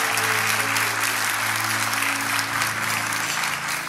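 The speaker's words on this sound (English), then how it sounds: "let's give them a hand clap" Steady applause from a church congregation at a prophetic ministry gathering fills the whole stretch, dense clapping with a low musical drone running beneath it and no talking.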